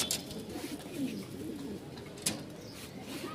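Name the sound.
Rajshahi Giribaz pigeons cooing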